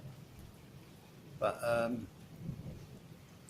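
Rain falls steadily outdoors during a dark electrical storm, a soft hiss over a low rumble of distant thunder, while a voice speaks briefly in the middle.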